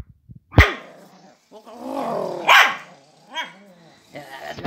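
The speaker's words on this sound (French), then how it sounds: "Allez, tu peux aboyer." A dog barks loudly and close by in a few separate barks, with growling and whining sounds between them in an indoor setting.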